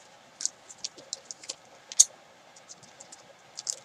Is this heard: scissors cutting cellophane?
yes